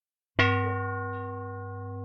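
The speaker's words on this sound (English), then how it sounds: "There go that bell, man." A single bell is struck once and rings out loud and clear, its sustained metallic tone decaying slowly over about two seconds with no voices.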